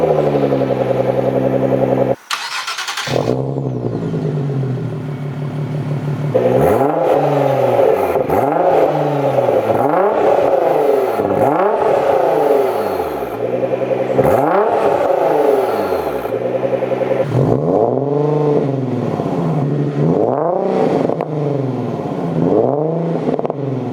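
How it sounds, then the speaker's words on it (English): A wide-body Nissan GT-R and a Nismo rev their engines at a dealership, a run of repeated loud blips rising and falling in rhythmic surges after a brief pause, close and unaccompanied. "I think we should see how the GT-R sounds compared to my Nismo"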